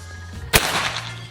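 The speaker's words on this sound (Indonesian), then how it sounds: "Kita lanjut tembakan yang keempat." A PCP Predator air rifle fitted with an upgraded slug barrel fires a single sharp, loud crack, which trails off into a short noisy decay over a low steady hum.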